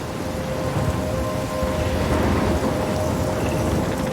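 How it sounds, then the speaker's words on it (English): Thunderstorm in the game Life Is Strange: dense, steady rain hissing on surfaces with a deep rolling thunder rumble underneath, loud and continuous, with no voices. "I'm trapped in a storm?"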